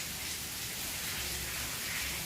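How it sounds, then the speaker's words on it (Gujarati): Steady rain falls continuously during a monsoon downpour at a family home, a dense, even hiss with no pauses and no voices. "જોઈ શકો છો કે વરસાદ તો હજી પણ ચાલુ છે."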